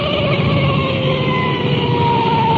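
A continuous police car siren wails steadily and loudly on a 1950s patrol car running code 3, with heavy engine rumble underneath, no voices.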